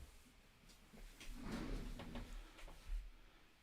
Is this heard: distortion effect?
no